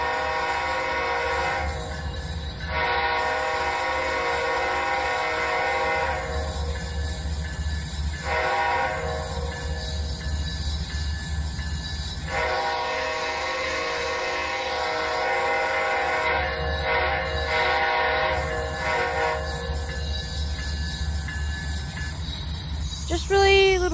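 Train simulator BNSF locomotive with a K5HL horn sounding several long blasts over a steady diesel engine drone, loud and close throughout.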